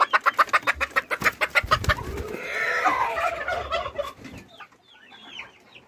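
Chickens and a rooster clucking, a rapid run of a dozen sharp clucks followed by a drawn-out squawking call and scattered softer chirps, fairly close with outdoor background noise.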